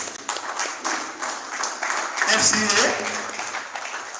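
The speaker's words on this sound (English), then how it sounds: "A round of applause." A conference audience at the Gateway Builders Conference 2024 in Ogun State applauds with a broad wash of clapping, moderately loud, while a voice over the sound system carries on above it.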